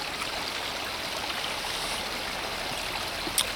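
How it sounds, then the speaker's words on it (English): Water flows steadily through a siphon pipe in freezing conditions, making a soft continuous rushing and trickling wash at low level with no talk over it. "Flowing water shouldn't freeze."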